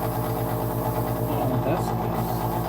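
An electric shaver buzzes with a steady, close, droning hum and a regular pulsing rhythm, running continuously while a voice talks over it.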